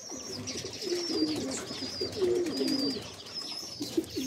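Young racing pigeon cooing as it returns to its loft after a 137 km race from Carranglan, Nueva Ecija, soft repeated coos close by with chirpy bird calls above.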